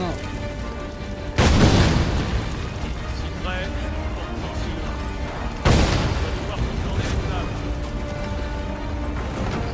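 Two heavy explosions in the video game Assassin's Creed 3, each a sudden loud boom followed by a long rumbling decay, about four seconds apart over a dense background of game noise.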